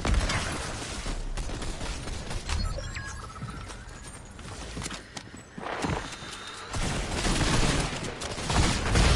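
Shotgun blasts and scuffling footsteps from a Fortnite match come as loud, irregular bursts and impacts over a busy game mix, with a quieter stretch mid-way before the action swells again.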